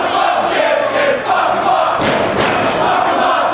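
Wrestling arena crowd roaring and cheering for James Gibson during a match against Samoa Joe, loud and continuous with chanting surges and a swell partway through.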